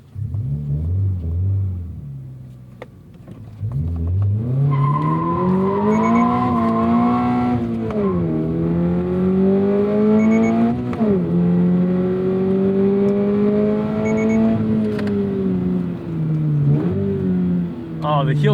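A Lotus Emira's engine blips and rises and falls in pitch through repeated heel-toe downshifts, sounding close and clear as the car slows and pulls again.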